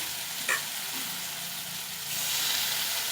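Onion and tomato masala sizzles steadily in a pan after a little water is added for a fish dhania roast, a brief sharp spit near the start and the hiss growing slightly louder toward the end.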